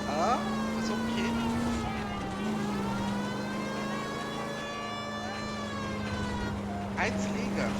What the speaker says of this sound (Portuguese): Barulho chato de sirene